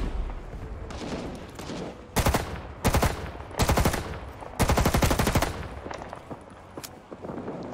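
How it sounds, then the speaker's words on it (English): M2 automatic carbine fire in the video game Rising Storm 2, several loud, close bursts of rapid shots separated by short pauses, ending with scattered quieter shots. "the automatic fire of the M2 really drains your ammunition"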